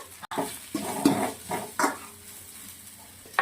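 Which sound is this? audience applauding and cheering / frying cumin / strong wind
frying cumin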